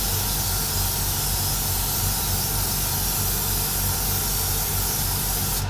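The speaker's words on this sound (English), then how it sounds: "all we're going to do is just lightly misting on a coat" A spray lightly mists a coat of paint onto a model, giving a continuous, even hiss close by that stays unbroken throughout.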